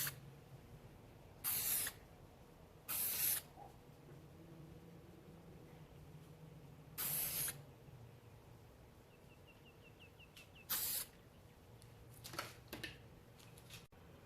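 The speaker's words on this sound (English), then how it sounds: "Okay, so that was just a spray varnish." Spray varnish misted onto a resin art board in four short, separate hissing bursts with quiet pauses between them, close by and with no talking.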